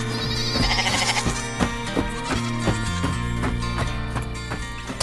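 An animated white sheep bleats over a steady, busy cartoon music track, the wavering cries rising briefly near the start.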